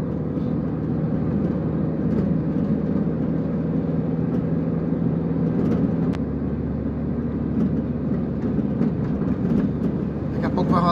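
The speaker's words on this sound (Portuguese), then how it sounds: "Estou em quarta marcha aqui, mas estou rodando no GNV. Bem fraquinha essa quarta marcha no GNV." A car engine runs on natural gas in fourth gear while climbing a hill. It gives a steady, strained low drone with road rumble throughout and no break.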